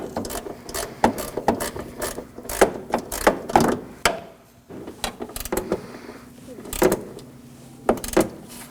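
A ratchet snugging down the top mounting bolt of a windshield washer reservoir on a 2013-2019 Nissan Sentra, with irregular clicking strokes and clunks of handling, close and moderately loud.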